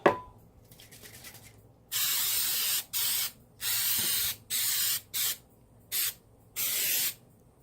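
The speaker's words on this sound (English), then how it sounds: "I'm going to go ahead and spray the pie pan with coconut oil." Short bursts of coconut oil cooking spray hiss onto a pie pan in a stop-start rhythm, seven or so puffs of varying length, close and fairly loud.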